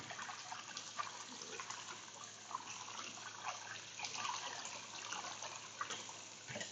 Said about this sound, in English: so let's wash the noodles again. Remove the starch completely.